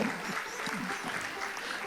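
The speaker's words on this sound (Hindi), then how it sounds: "एक बार बहुत सारी ताली बजा दीजिए" An audience at a live stage singing show in India applauds, a dense steady wash of clapping filling the whole stretch, with a voice faint underneath.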